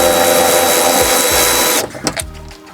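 A power tool whirs loudly and steadily on a 10 mm bolt on a 5th gen Toyota 4Runner, then stops abruptly, followed by a few faint clicks and handling sounds.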